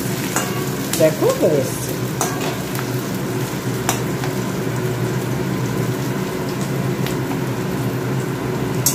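Spices frying lightly in a pan for mutton curry give a steady close sizzle, with a spoon scraping and stirring now and then and someone speaking briefly over it.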